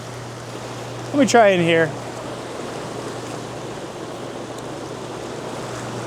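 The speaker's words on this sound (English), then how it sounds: "this is where the discharge is, so there's so much water moving" Water rushing steadily at the discharge point of a rapidly draining river, a continuous broad hiss that carries throughout, briefly overlaid by a man's short spoken remark near the start.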